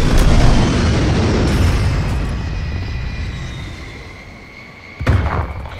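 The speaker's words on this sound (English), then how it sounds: "Incoming artillery." Heavy artillery shells pound the ground in a multiplayer war video game, one sustained rumbling wave of explosions rolling on loudly, fading slightly, then a fresh sharp impact bursting near the end.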